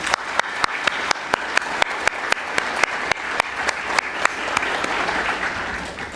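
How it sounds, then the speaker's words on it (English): An audience at a Kol Nidre gathering claps, a brisk scatter of hand claps at first that thickens into dense, steady applause over several seconds. "Please join me in giving everyone who contributes their time a big round of applause."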